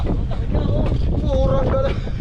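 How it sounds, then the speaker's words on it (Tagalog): Strong, storm-like wind buffets the microphone in a loud, continuous rumble, with voices talking throughout. "Talagang malakas yung hangin, parang bagyo."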